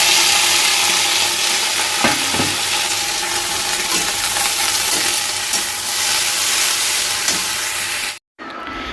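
Okra and potato pieces fry in oil in a pan for a dry bhindi sabzi, with a loud, dense, unbroken sizzle and hiss close up and a few faint scrapes of stirring, cut off abruptly near the end.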